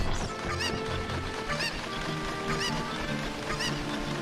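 Cuckoo chicken in Zelda: Ocarina of Time clucks in short, repeated bursts about once a second, sitting clearly over a steady bed of game music and ambience.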